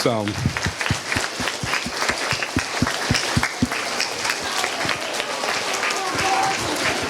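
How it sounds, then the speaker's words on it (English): An audience at an elementary school Veteran's Day performance applauds the veterans, with brisk, steady clapping throughout and voices faintly mixed into the crowd noise. "let's give them a clap"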